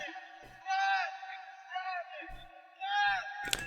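Amapiano vocal sample played in Caustic 3: wavering, chant-like vocal phrases in two bursts, punctuated by sparse percussion hits, with a sharp crash at the end.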